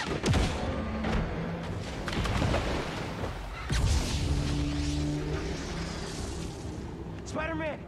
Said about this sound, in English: You see the little negative explosions coming out.